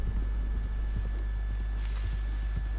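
Horse hooves clip-clop steadily in the Red Dead Redemption 2 game, a rhythmic trot of soft thuds over a constant low rumble and background hum, with no talk.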